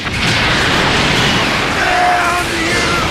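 A loud, roaring noisy blast from the Special Beam Cannon energy attack in Dragon Ball Legends, sustained for several seconds, with whooshing rumble and thin rising whines layered over it.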